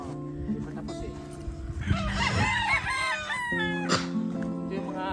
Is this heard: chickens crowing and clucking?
yes